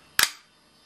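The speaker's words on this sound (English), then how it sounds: "slide release right here, slide catch. Gives out very nice sounds." Single sharp metallic click from the slide catch of an H&K USP airsoft replica pistol, close and crisp, followed by a short fading ring and then quiet.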